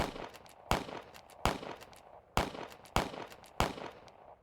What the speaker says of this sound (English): As you start prepping the cannon to fire, the bullets start up again.